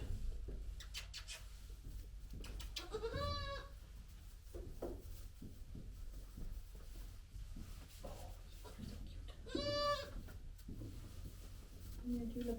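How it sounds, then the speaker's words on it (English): Young goat kids at a spring kidding barn bleat in two clear rising calls, one early and one near the end, amid a busy background of shuffling, rustling and a person speaking softly nearby. "look at this goat."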